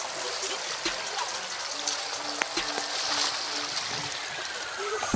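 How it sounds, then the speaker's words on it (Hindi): Water streams down and splashes below at an outdoor spot, a steady broadband rushing that fills the background at moderate level, with faint voices in the distance. "जहाँ पानी गिर रहा है"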